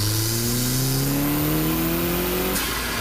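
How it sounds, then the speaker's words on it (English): Subaru WRX, 2015-2021 generation, fitted with a cold air intake, its engine pulling hard with rising revs and a whining turbo under it, then a sharp release as it lets off near the end. "By putting an intake on your car, you're going to get less restrictions with better airflow, and you're also going to get some sweet turbo noises."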